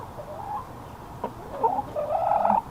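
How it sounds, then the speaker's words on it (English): A hen on a backyard chicken keeping chore day clucks and murmurs close by in a series of short calls that build into a louder, more insistent run of clucks toward the end, with no talking. "This is Daenerys, the boss hen. And whenever I'm out here, she has so much to say."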